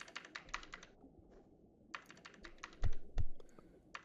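Quick clatter of keys on a computer keyboard in bursts, a short pause, then more rapid taps ending in a couple of heavier keystrokes.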